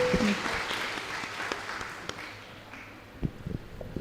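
An audience at a career and educational opportunities awareness program claps together, a dense crackling burst of applause that gradually thins and fades toward the end, with a few stray claps left.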